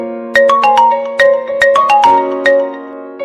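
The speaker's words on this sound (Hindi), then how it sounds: "फिर तेरे पास एक फ़ोन आया।" A mobile phone ringtone plays a bright, loud electronic melody of repeated chiming notes in a rhythmic pattern, close and alone.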